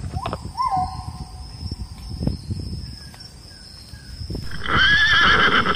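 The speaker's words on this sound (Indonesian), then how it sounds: "Ini kuda teman-teman." A horse neighs loudly near the start, then quieter whinnies and snorts follow, ending with a long, high, shaky neigh.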